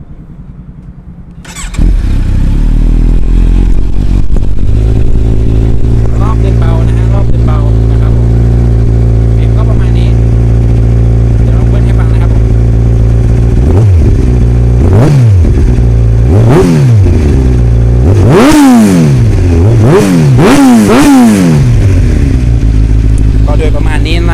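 Kawasaki Z900 ABS, a 2016 motorcycle fitted with custom parts, starts and idles steadily, then revs sharply several times near the end, each throttle blip rising and falling loud and close.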